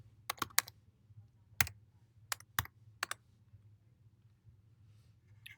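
Several quick keystrokes on a computer keyboard come in short bursts with pauses between them, crisp and close against a quiet low hum.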